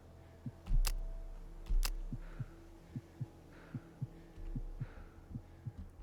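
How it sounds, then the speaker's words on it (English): A player character's heartbeat in the Escape the Pacific video game throbs in steady double thumps, low and soft over a quiet hum, with a couple of brief sharp clicks near the start. "we're just gonna sit here for a second, let our heartbeat calm down"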